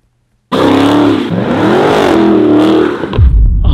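Car doing donuts, its engine revving hard from a sudden loud start and holding a wavering howl, then dipping near the end into rough low rumble as the tires scrub.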